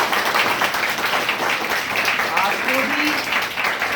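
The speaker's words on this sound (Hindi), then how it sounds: "तालियां नहीं बजाओगे क्या?" Students in a classroom clap through a motivational lecture, making a steady wash of applause under a teacher's voice.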